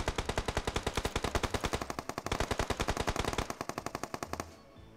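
Rapid automatic gunfire in PUBG Mobile rattles in a long continuous burst, sharp repeated shots at a fast steady rhythm, loud and close, then cutting off.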